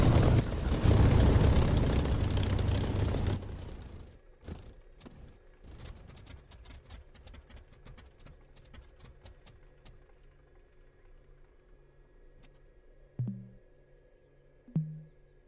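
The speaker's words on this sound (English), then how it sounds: "Okay, cut the engine." Aircraft engine shutting down in the DCS flight simulator game after landing: a loud propeller-engine drone cuts off after about four seconds, followed by scattered clicks and a couple of soft thumps in quiet cockpit ambience.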